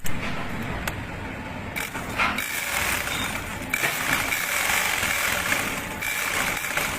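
A classic black sewing machine being serviced and oiled runs under motor power with a steady, close mechanical whirring hum and faint clicking, holding constant throughout.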